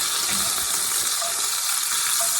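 Beef chunks browning in a hot pan for soup give a steady, dense sizzle with fine crackling throughout, close and even, with no talking.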